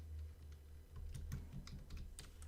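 Quiet, steady typing on a computer keyboard, with a rapid, irregular run of soft key clicks and no voices.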